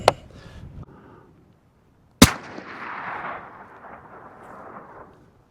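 Two sharp rifle shots from a .22 Creedmoor fired from the prone position outdoors, the first quickly fading and the second followed by a long rolling echo across open ground; no talking.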